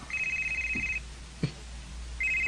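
A telephone rings in two bursts of steady electronic trilling, one at the start and another near the end, with a short quiet gap and a faint knock between them.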